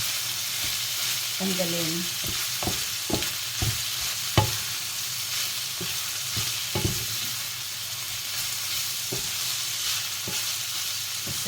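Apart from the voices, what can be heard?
chicken empanada filling frying in oil in a pan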